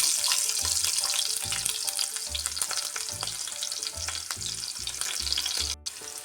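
Loud, continuous sizzling of chopped shallots frying in hot oil for Kerala-style moru curry, with a rhythmic series of scraping stirs against the pan throughout.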